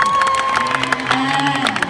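An audience at a Paragon Hall fan event with Jennifer Kim and Bird and Hart applauds and cheers, with steady clapping and scattered shouts filling the room.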